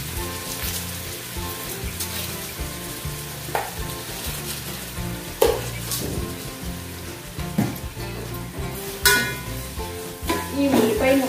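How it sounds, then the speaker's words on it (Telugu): Onion pieces with crystal salt frying in a pan give a steady, close, continuous sizzle and crackle, with occasional soft stirring clatters and no speech. "ఈ ఉల్లిపాయ ముక్కలు వేగడానికి 10 minutes పడతాయండి"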